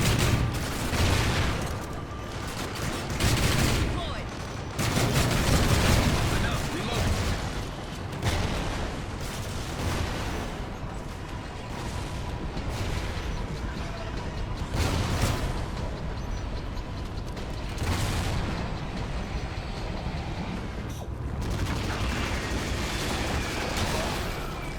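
Dense, continuous gunfire and explosions in Call of Duty Ghosts Extinction co-op on the Mayday map with armor-piercing ammo, loud overlapping bursts and blasts filling the whole stretch.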